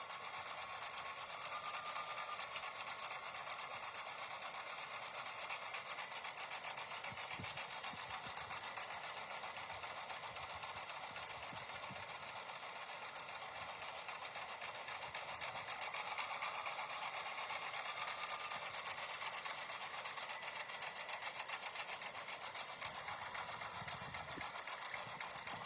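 A sewing machine runs continuously at speed, stitching satin stitches on a quilted mug rug, with a steady, even mechanical whir and rapid needle clatter that stay close and constant throughout.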